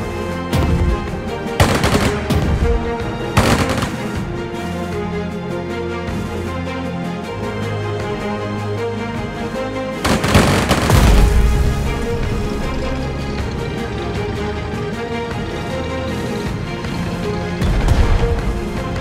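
Gunfire in the strategy game Strategic Mind: Fight for Freedom during the Saar Offensive of the UK campaign: several loud bursts of shots and booms rise over a steady din of battle and music, clustered early on and again around the middle and end.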